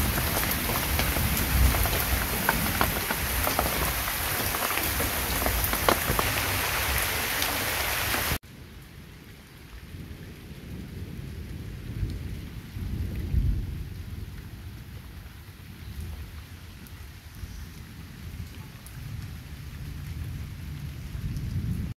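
Heavy rain pours down in a constant dense hiss, with deep thunder rumbles rolling underneath and a sudden drop in intensity partway through; no one speaks.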